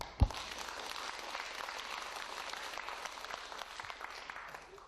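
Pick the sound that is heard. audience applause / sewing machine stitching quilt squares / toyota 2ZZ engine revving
audience applause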